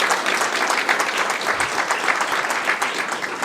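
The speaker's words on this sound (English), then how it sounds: "a round of applause for all the presentations" A graduate school competition audience claps for the finalists' presentations, a loud, dense and even round of applause filling the room throughout.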